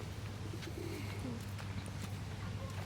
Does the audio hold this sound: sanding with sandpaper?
no